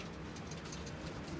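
Pet pigeons kept for sale in Lahore coo softly and indistinctly in a faint, steady murmur under low background noise, with no speech.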